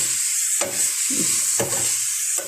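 Chicken sizzles in a pan under a steady frying hiss while a utensil stirs it, making several short scraping strokes at an even pace.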